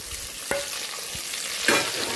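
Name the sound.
stuffed brinjal curry sizzling and stirred in a pan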